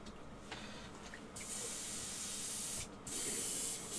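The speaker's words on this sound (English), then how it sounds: "So obviously clean the airbrush out." An airbrush sprays in two steady hissing bursts while being cleaned out after painting sand-coloured model buildings, the second burst louder, with quiet pauses before and between.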